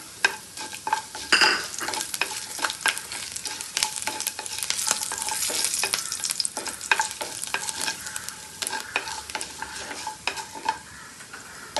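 Urad dal and peeled garlic cloves frying in oil in a pan, a crackling sizzle with busy, irregular spatula scrapes and clicks close by.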